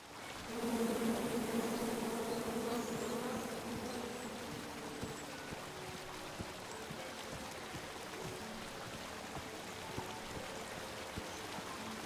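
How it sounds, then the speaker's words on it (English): Bees buzz in a video game, a dense swarm-like drone that swells loud at the start and then settles into a steadier hum with faint ticking and pattering under it. "Come at me, bees!"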